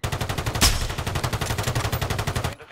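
Rapid automatic gunfire in Call of Duty Warzone, a steady stream of close, evenly spaced shots with one louder burst near the start, stopping abruptly just before the end.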